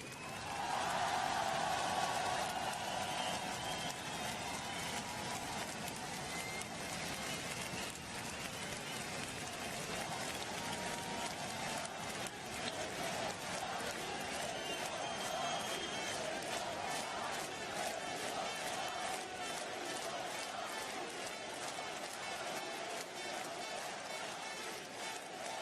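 A large rally crowd in Lille cheers and applauds loudly for French soldiers, thick sustained clapping mixed with shouts and whistles, continuous throughout with no break.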